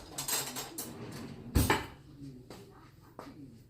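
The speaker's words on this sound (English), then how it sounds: "Let me find a knife." Kitchen utensils clattering in a drawer while someone hunts for a knife: scattered metallic clinks and rattles, one louder clang of cutlery midway, then a few lighter taps, close by and without talk.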